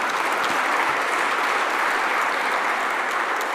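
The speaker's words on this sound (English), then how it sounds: "I want you all to join me in celebrating and applauding South Africa's presidency of the BRICS" An audience applauds South Africa's BRICS presidency at a Global South forum, with steady, dense clapping from a large crowd that holds at a constant level throughout, with no voices over it.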